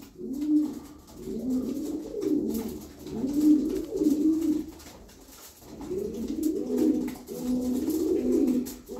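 Several pigeons from a young ash-grey loft flock coo close by in repeated rounded, throaty phrases that rise and fall in loudness, with no talking.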